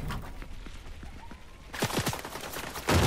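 Sniper and rapid gunfire in a Fortnite solos match, several sharp bursts of shots with a louder blast at the end, layered over game ambience.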